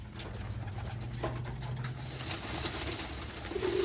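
Birmingham Roller pigeons in a loft during their molt, low cooing calls rolling softly over a murmur of background noise, several birds heard faintly in a continuous stretch.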